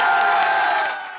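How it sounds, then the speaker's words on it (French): Election-night supporters of a UMP candidate in Evreux's municipal race cheer loudly as a dense, close crowd, with some applause, the roar holding steady before easing slightly at the end. "C'est sous les applaudissements que le candidat UMP arrive parmi ses militants."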